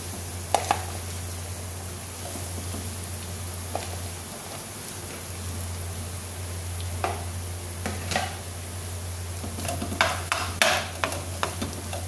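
Rice and already cooked vegetables are stirred in a frying pan for vegetable fried rice, a soft continuous sizzle under a low hum, with repeated scraping and clacking of the spatula that grows busier toward the end.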